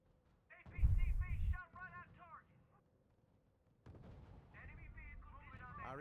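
Artillery bombardment in the real-time strategy game R.U.S.E.: a burst of heavy booming blasts and crackling impacts, followed after a pause by a second rumbling barrage, with game voices talking over the battle.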